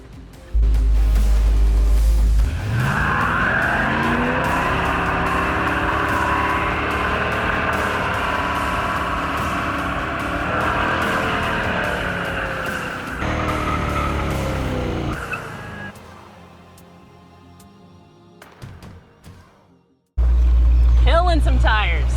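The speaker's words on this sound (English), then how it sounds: "Killing some tires." Car tires squeal loudly during a burnout, a long sustained screech with a rising and falling engine note for about twelve seconds, then fading away; short bursts of other noise come at the start and end.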